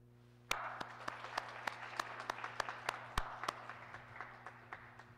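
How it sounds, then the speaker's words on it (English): Audience applause greets newly installed officers at a school organization ceremony, a burst of dense clapping starting abruptly and continuing steadily for several seconds, with sharper individual claps standing out. "Please give them a nice round of applause."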